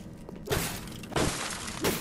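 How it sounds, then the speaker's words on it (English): Glass shatters in the Bioshock video game, three sharp crashing bursts in quick succession, loud and close, with no talking over them. "so they can break the glass"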